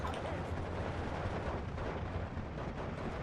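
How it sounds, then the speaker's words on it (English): Steel Division 2 wartime battle sounds of half-track machine guns firing on recon infantry, a dense continuous roar of gunfire and rumbling blasts, steady and heavy throughout. "we can just mow them down with the machine guns on the half-tracks"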